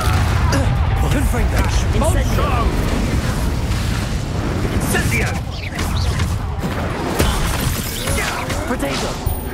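Expulso and Incendio spell explosions in the video game Hogwarts Legacy, a dense, continuous roar of blasts and crashes with voices talking over the chaos.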